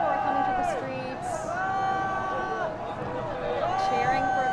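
A crowd at a Chinese launch site cheers and whoops with rising calls as the Shenzhou-13 crewed spacecraft motorcade passes. The cheering is lively and steady, close and continuous throughout.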